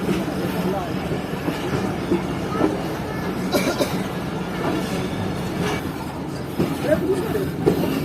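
Sukkur Express passenger train running at night out of Sukkur toward the Ayub Bridge over the Indus, heard from inside a coach with a steady rumble, rail clatter and occasional wheel squeal, with some voices and a cough nearby.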